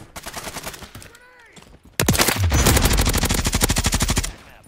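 Rapid automatic gunfire from a Striker setup in Warzone 3, loud and close, with a short lull before a dense sustained burst of rattling shots.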